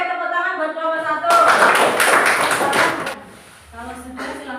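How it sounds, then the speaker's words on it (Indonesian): A classroom claps for the first discussion group during a teacher coaching session; a short burst of brisk, close applause lasts about two seconds between stretches of someone talking. "Oke, tepuk tangan buat kelompok 1."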